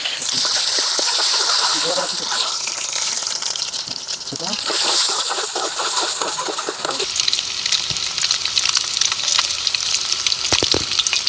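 Eggs frying in oil in a pot for egg biryani give a loud, steady sizzle with bursts of spattering and some stirring, close up and continuous throughout.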